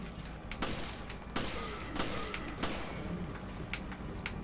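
Gunfire in the video game Resident Evil Revelations, several sharp shots spaced irregularly over a steady low background, moderately loud against the game's ambience.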